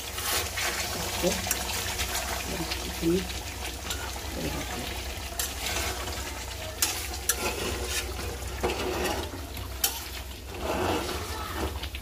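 Chicken cooking in a pot, being stirred and braised: a steady low sizzle with repeated scraping and clattering of a spoon against the pot, close and moderately loud, with a voice speaking intermittently over it.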